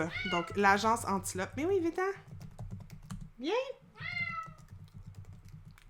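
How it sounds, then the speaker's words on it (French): A pet cat meows several times close by, rising drawn-out calls interleaved with someone speaking French and computer keyboard typing. "Je sais pas si vous entendez mon chat miauler"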